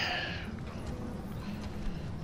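Horse hooves drum steadily in the Rome: Total War video game, a continuous clatter of cavalry under busy battle ambience at moderate loudness.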